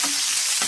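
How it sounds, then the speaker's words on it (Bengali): Potatoes frying in a pan during home cooking, a loud, close, continuous sizzle with no voices. "আলুগুলো এই জন্য আগে ভেজে নিলাম"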